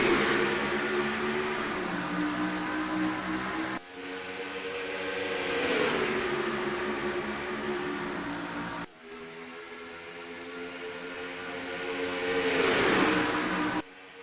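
Race cars roar past at the lap-one start of the Ace Hardware 400 at Chicagoland in the NASCAR Racing 2003 video game, with three long, loud engine sweeps building and cutting off, no voices.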